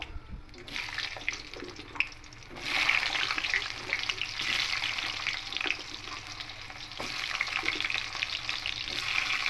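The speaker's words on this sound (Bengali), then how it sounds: "এবার এখানে প্রথমে আলুগুলোকে দিয়ে দেবো" Cut potatoes going into hot oil with crackling tempering spices for a vegetarian Malabar spinach stir-fry, a continuous hissing sizzle that swells louder and holds steady, with no voices.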